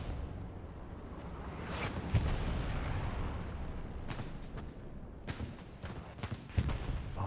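Artillery fire in Hell Let Loose's Hurtgen Forest map, a steady rumbling barrage with distant booms and a few sharper blasts standing out around the second, fourth and sixth seconds, with no talk.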